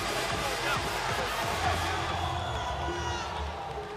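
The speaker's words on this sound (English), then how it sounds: "This Myanmar crowd trying to get behind their home nation fighter Sonia Mon" A Myanmar stadium crowd at a Lethwei knockout fight night in Naypyidaw cheers for its home nation fighter, a steady, dense roar of voices and whoops under a commentator talking.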